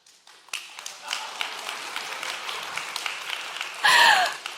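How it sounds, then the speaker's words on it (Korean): A lecture audience breaks into brief applause in a hall, a short burst of clapping that swells near the end, with a speaker's voice heard around it. "이 시점에서 박수가 나올 줄 몰랐는데, 감사합니다"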